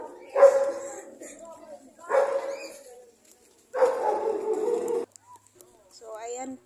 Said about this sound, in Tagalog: Talagang masungit itong mga aso dito sa lugar na ito.